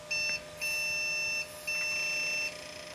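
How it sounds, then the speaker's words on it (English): Three long electronic error beeps at startup from a Compaq Deskpro 2000 computer, with short gaps between them, steady high-pitched tones over a faint background hum. "Bad beeps."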